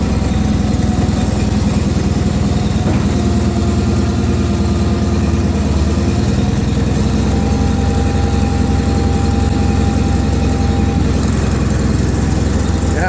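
Two John Deere garden tractors, a 210 and a 316, idle after a cold start on New Year's, a steady, loud, low engine rumble running unbroken throughout with no talk.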